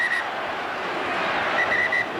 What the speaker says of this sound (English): Sound of the whistle from Bill Harrigan, some timeout.